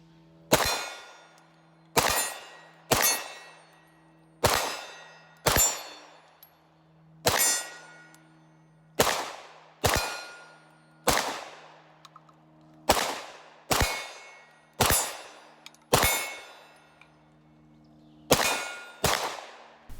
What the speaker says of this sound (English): especially when you're shooting at steel targets